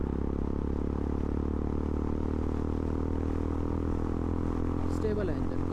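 A Honda CB350 motorcycle engine runs steadily in third gear, a continuous loud, even drone with no clear surges, and a brief higher whine near the end.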